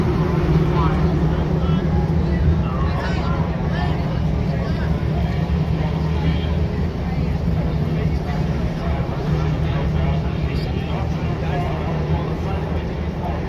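An early Mk2 Volkswagen Golf GTI challenge race car on full slicks drives hard, its engine a loud, continuous droning roar from start to finish.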